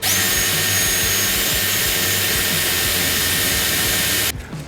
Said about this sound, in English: if you use this drill method, it takes it off really evenly around the arrow